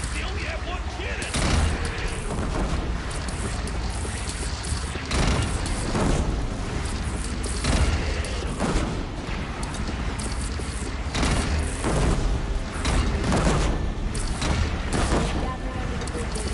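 Cannon fire in a video game battle: repeated loud booms and bursts of gunfire over a constant rumbling din, irregularly spaced across the stretch, with voices talking over the noise.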